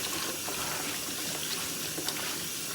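Tap water rushes steadily into a sink as cut potatoes for fries are rinsed, a constant close splashing hiss with small gurgles.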